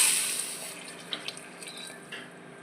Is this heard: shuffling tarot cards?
no